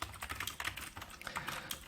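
Fast, light keystrokes on a computer keyboard in a quick, uneven run, close and quiet, with no voices.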